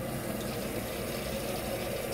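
Hot water runs from a tap on a British Gas RD532i boiler system, a steady, even rush of flowing water that continues unbroken at moderate volume with no talking.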